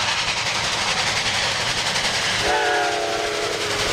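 A toy steam train rumbles with a continuous mechanical rattle, then sounds a sustained electronic horn tone over the noise for the last second and a half, close and fairly loud.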